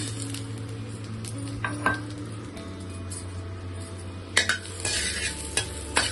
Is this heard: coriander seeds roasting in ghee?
yes